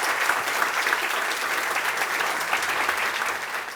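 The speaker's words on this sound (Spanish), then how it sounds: "Así es que démosle un fuerte aplauso y los dejo con ellos." A crowd applauds at a Spanish-language book launch for a novel by Rossana: dense, continuous clapping from many hands, fairly loud and even throughout, with faint murmurs beneath.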